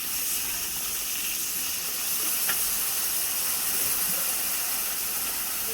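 Food boils in a pot with only a little water, giving off a continuous broad steamy hiss that stays even and close throughout, with no talking.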